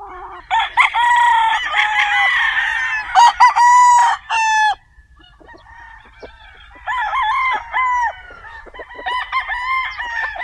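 Gilmore Hatch gamefowl rooster crowing close and loud, several sharp cock-a-doodle-doo calls in quick succession, followed by further crows and clucks from nearby fowl.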